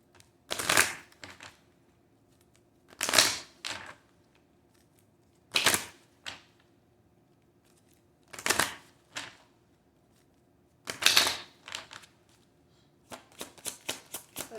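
Tarot cards shuffled in several separate bursts, each a quick crisp riffle, close up, with pauses between; a flurry of faster flicks at the end.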